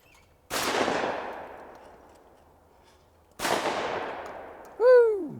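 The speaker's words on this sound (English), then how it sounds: "Nice shooting, brother." Two loud shotgun blasts at a hunting preserve, each a sharp crack followed by a long decaying echo, spaced about three seconds apart, with a short whistle or call at the end.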